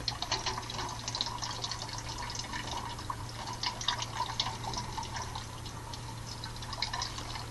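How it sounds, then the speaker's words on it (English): Normal tap water runs steadily from a kitchen faucet, a continuous close splashing hiss with small drips and a low steady hum beneath. "Now I'm gonna show the normal tap water to distinguish them."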